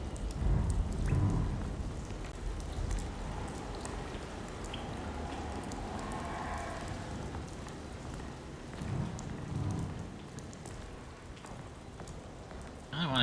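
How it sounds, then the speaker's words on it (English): Rain falls at night in the video game Alone in the Dark, a soft, steady patter with low rumbling swells underneath, fairly faint throughout. "It started raining too, and it's now nighttime."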